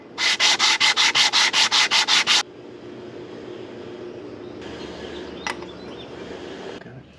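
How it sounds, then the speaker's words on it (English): A sanding block with sandpaper is worked over an engine block surface in about eleven quick, even rasping strokes, loud and close. Low background hum continues afterward. "Take a block, some sandpaper, and we'll sand it down until we're nice and smooth"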